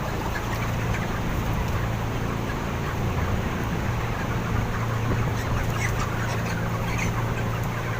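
Chickens cluck and fowl chatter steadily in a poultry pen, a dense continuous flock sound over a constant low hum, with no talking.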